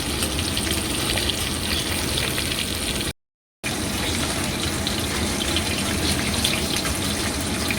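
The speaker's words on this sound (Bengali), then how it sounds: "তো একটু আঁচ কমিয়ে ভাজতে হবে, কারণ এই মাছটা একটু সেদ্ধ হতে দেরি হয়।" Steady, dense sizzling of koi fish frying in hot oil over reduced heat, loud and close, broken by a brief silent gap partway through.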